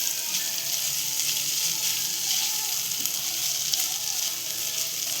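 Ginger and garlic sizzle in a hot pan as they are sautéed, a steady close crackling hiss continuing evenly without talk.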